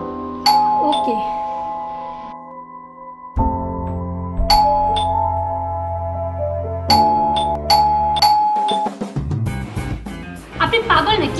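A doorbell chimes several times in a row, loud and close, its ding-dong tones ringing out in an indoor home, with short gaps between presses.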